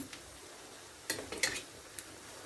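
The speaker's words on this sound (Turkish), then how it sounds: "Şöyle salçamı da güzelce soğanla beraber kavuruyorum." Tomato paste and onions sautéing in a pan, with a few quiet scrapes and clinks of a utensil stirring against the pan over a low, faint sizzle.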